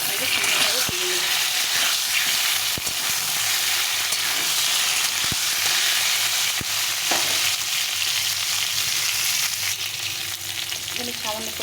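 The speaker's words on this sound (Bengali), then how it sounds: "আমি বেগুনটাও এখন দিয়ে দিলাম, দিয়ে আলু বেগুনটা একসঙ্গে সুন্দরভাবে ভেজে নেব" Potato and eggplant frying together in hot oil in a pan, a loud continuous close sizzle with occasional clicks of a utensil and faint talk underneath.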